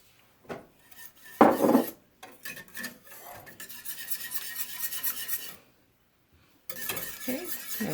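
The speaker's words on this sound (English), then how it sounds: "we're going to whisk that in really well" Seasonings get whisked into chicken and rice in a slow cooker, making scraping, rasping strokes of a whisk against the crock in uneven bursts, with a steady stretch of whisking and short pauses between.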